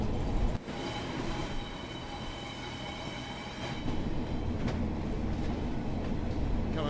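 A train on the West Coast Main Line in Train Sim World 4 rolls steadily near Preston, a continuous rumble of wheels and carriage noise with faint rail clatter and squeal, unbroken throughout.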